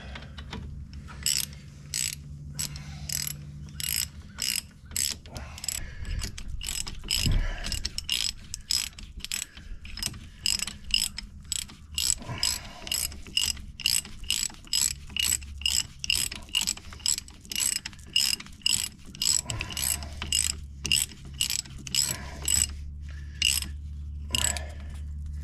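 A ratchet tightens a bolt on a 2009 Impala wheel bearing. It clicks quickly and steadily in repeated bursts for the whole stretch, close and loud, with brief pauses between strokes and no talking.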